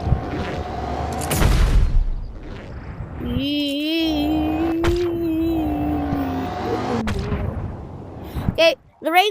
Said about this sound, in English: the ray gun is so fun.